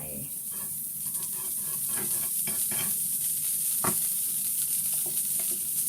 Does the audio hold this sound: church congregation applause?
no